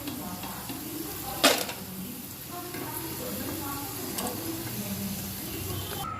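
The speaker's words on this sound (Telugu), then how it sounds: "కాకరకాయలని ఆయిల్లో ఫ్రై చేసుకుందాం ఫ్రెండ్స్" Bitter gourd deep frying in hot oil with a busy crackle, broken by a sharp splash-like burst early on and occasional stirring noises.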